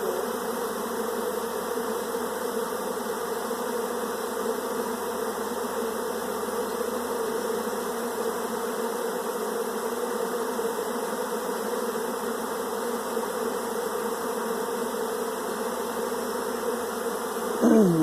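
A giant honey bee swarm pours out of a box, making a dense, steady buzzing drone that stays loud and unbroken throughout.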